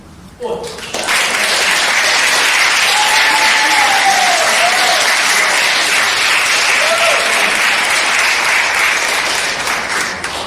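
An audience at an Aboriginal poetry open mic night in a university gallery breaks into loud, sustained applause that starts abruptly after a brief pause and holds steady, with a few faint voices and cheers mixed in.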